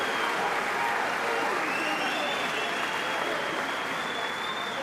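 A boxing crowd applauds and cheers steadily between rounds of the Jamie Moore vs Matthew Macklin fight, a dense, sustained roar of clapping that fills the arena with faint commentary beneath.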